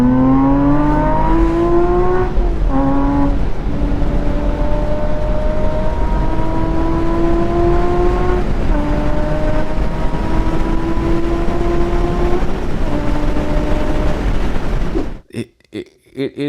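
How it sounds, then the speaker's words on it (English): A car engine revs hard through several rising pulls, each climbing whine cut by a brief drop as gears change, loud and close for about fifteen seconds before cutting out abruptly. "It is an incredible sounding car"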